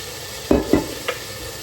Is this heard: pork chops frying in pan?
yes